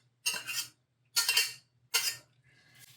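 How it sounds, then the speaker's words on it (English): Warm pasta scraped from a pan into a bowl with a utensil: three distinct scraping, clinking strokes with short pauses between them, close and clear, then a faint fourth scrape trailing off. "I'm just going to scrape little bits out."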